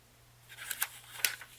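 Scissors snip through paper for a signature journal in a quiet room, two or three short, crisp close cuts with a faint hum underneath.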